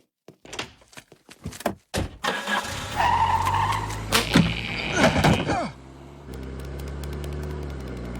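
Cartoon car driving recklessly in Family Guy: a run of sharp knocks and thumps gives way to a loud revving engine with squealing, then a steady lower engine drone.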